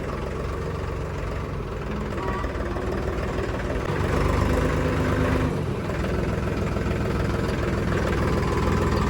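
Trakstar 531 tractor with a 31 hp engine running at steady revs, a low continuous rumble and vibration that grows slightly louder midway, with no talk.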